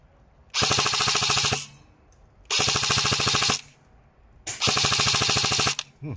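A gun fires glow-in-the-dark tracer rounds in three loud bursts of rapid automatic fire, each lasting about a second with short pauses between them, close to the listener and with no talk.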